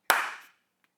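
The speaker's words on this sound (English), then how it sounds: "give me a transition and a clap on 3" One sharp hand clap rings out close and loud, then decays quickly into silence, with a faint tiny click trailing afterward.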